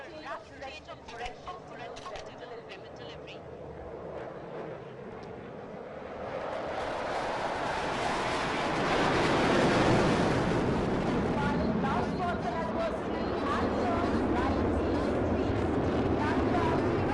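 Tejas light combat aircraft of the Indian Air Force flying over Sukhna Lake during an anniversary air display, a broad jet roar swelling up from about six seconds and holding loud over crowd noise and a commentator's voice.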